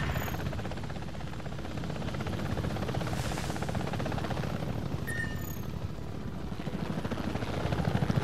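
Apache attack helicopter in the Apache Air Assault flight game, a steady close rotor drone with rhythmic blade thump throughout, continuous and fairly loud.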